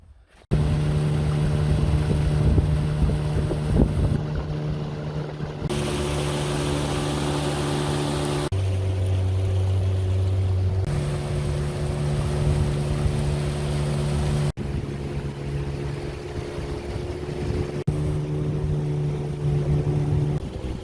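Motorboat riding on a Siberian river, a loud steady engine drone with shifting pitch steps as the throttle changes, continuous throughout.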